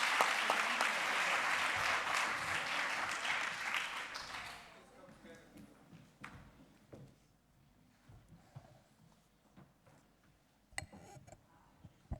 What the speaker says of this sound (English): please a big round of applause for our fantastic rapporteurs